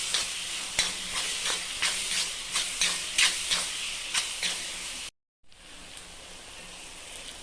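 Masala with chili powder sautéing in a pan for dum biryani, a steady close hiss and sizzle with rhythmic stirring scrapes, briefly cut off before the frying continues.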